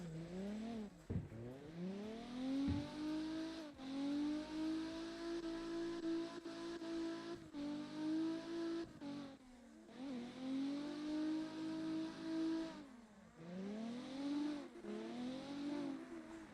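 A car engine in a racing video game revs hard and holds high while the car drifts, its pitch sweeping up and down over several loud, sustained pulls, with brief drops as it shifts or lifts off.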